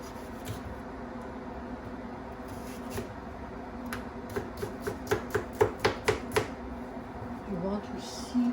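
A knife cuts capsicum on a cutting board, with about eight evenly spaced, crisp chops in a quick run over a quiet kitchen hum, and a voice is faintly present.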